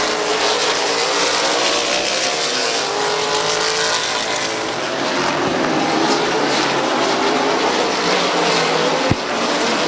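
Race cars with crate and built engines roar around Midvale Speedway while battling for the win, a loud, continuous engine drone that rises and falls as they pass.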